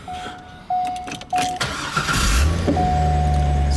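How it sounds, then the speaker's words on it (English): The V8 LS1 engine of a 2004 C5 Corvette, rated at 350 horsepower and shown for sale in North Carolina, cranks with short whirring starter bursts, then catches and settles into a loud, steady idle close by. "This engine starts right up."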